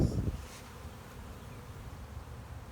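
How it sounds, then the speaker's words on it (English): Honeybees from a hive buzz in a soft, continuous drone, faint and steady, with a brief louder hum at the start. "You can't have bees in the house."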